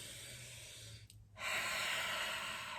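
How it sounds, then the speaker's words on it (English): A deep breath drawn in and let out during a seated yoga arm-circle exercise, a close breathy hiss that dips briefly before a longer, louder airy inhale. "Let's get some breath involved."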